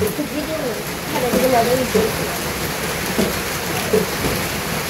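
Rain pours down steadily over a village in the rainy season, a continuous broadband wash with people speaking intermittently above it.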